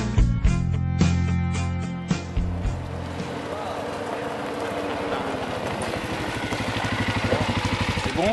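A quad bike engine idles and revs in the Drôme countryside, a steady rumbling pulse after some opening clatter and voices, rising somewhat louder toward the end.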